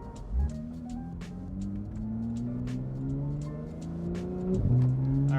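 A 2016 Porsche 911 GT3 RS fitted with a Soul exhaust accelerates in rising sweeps, with a sharp blip and downshift near the end. The engine note is loud and close from inside the cabin, with faint clicks and no speech.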